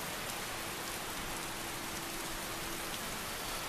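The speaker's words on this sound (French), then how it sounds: "Il pleut de plus en plus fort, j'ai l'impression." Dense, steady rainfall pattering on a surface in the video game Skyrim, growing heavier, loud and continuous with no voices, a faint tone humming faintly underneath.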